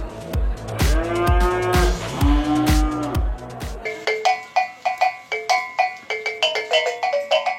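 Cattle at a pacu jawi cattle market in Payakumbuh, West Sumatra, give several loud, close moos in the first half, followed by a string of sharp, repeated ringing tones.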